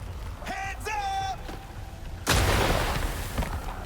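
A grenade goes off in Miasma Chronicles, a sudden broadband boom that follows a brief tonal game sound and a voice, then decays into a rumbling tail.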